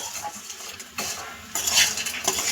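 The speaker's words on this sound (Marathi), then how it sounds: "आपण मॅगी मसाला टाकल्यावर आपण परत त्याला तीन ते चार मिनिटं परतून घेणार आहे" Maggi noodles tossed with Maggi masala in a pan, spatula scraping and clinking against the metal in quick irregular strokes, close and fairly soft, with no talking.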